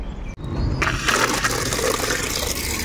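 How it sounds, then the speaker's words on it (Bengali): Plants watered with pumped water, a steady close rush and splash of flowing water that swells after a brief dip and continues to the end. "তাড়াতাড়ি করে গাছের জলটা দিয়ে নিই"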